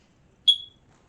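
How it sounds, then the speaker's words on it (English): A smoke detector gives a single short, high-pitched electronic beep, clear and fairly close, against near silence. "I believe my smoke detector is trying to communicate with me"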